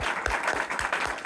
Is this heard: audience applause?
yes